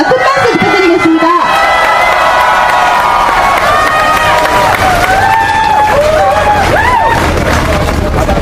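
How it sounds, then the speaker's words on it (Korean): A large outdoor crowd at a candlelight rally in Seoul applauds loudly and continuously, with cheers and shouted voices rising over the dense clapping throughout. "큰 박수 부탁드리겠습니다."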